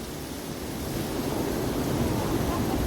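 Surf rolling onto Truman Beach on New Zealand's wild west coast near Punakaiki, a steady roaring wash of waves mixed with wind noise.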